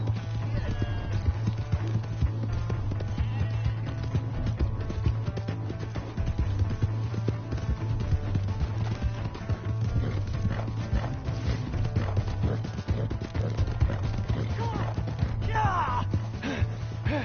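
A horse gallops in Red Dead Redemption 2, a steady rapid clip-clop of hooves running close and continuous through the whole stretch, with scattered game noise and faint background activity layered on top.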